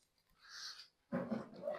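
A dog close by gives two short vocal bursts, a breathy whine followed by a louder bark-like yelp, with quiet between them.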